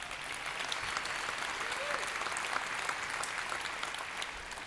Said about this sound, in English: Clap if you believe that.